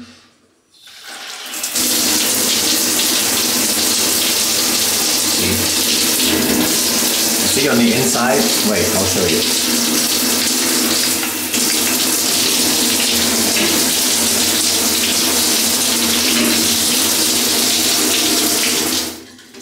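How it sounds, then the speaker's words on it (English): A hotel shower at the nhow Brussels Bloom runs hard with strong water pressure, a loud continuous rush of spray that starts abruptly and cuts off at the end, with someone briefly speaking over it. "Shower is good, pressure is good."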